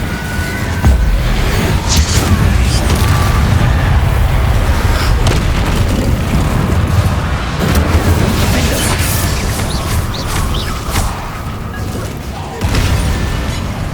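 Fire spell cast in the Hogwarts Legacy video game, a loud sustained roaring burst with booming, crackling energy filling the whole stretch, no speech over it.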